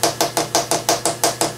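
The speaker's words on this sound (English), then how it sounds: "now we use a plastic or a brass hammer because we don't want to mark this surface" Plastic or brass hammer tapping metal stock down to square it in a machine vise, eight evenly spaced sharp taps about a fifth of a second apart, close and clear with no talking.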